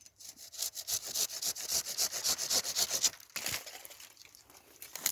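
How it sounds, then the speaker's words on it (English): A Silky pruning saw cuts through willow branches in fast, steady rasping strokes close up for about three seconds, then stops before a few softer scrapes. "I'm using my Silky pruning saw."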